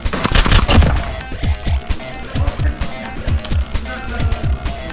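A WE KAC PDW gas blowback airsoft gun firing during an indoor CQB game, a burst of sharp close cracks followed by a rapid irregular string of popping shots over background game noise.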